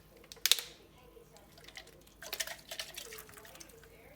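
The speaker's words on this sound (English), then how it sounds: "I'm just swishing it around with some of this water" Water sloshing and swishing inside empty juice concentrate cans, a sharp splashy burst near the start followed by a few softer intermittent swirls, close and fairly quiet.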